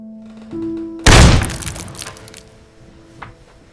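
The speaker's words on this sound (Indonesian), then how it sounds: "dia menjatuhkan barang ke arah lantai untuk pengalihan" An object is dropped onto a floor as a distraction, landing in one loud thudding crash with a rattling, breaking edge that decays over a second or two after a faint tonal hum.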